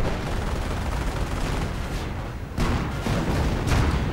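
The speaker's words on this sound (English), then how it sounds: "Lots of artillery, looks like a creeping barrage." Artillery fire in a real-time strategy war game, a creeping barrage of continuous dense rumbling blasts and gunfire with a few heavier booms, loud and sustained throughout.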